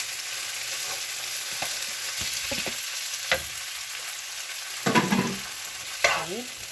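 Shrimp and asparagus fried rice being stir-fried in a pan, a steady close sizzle with intermittent scraping knocks of a utensil stirring through the food, no voices.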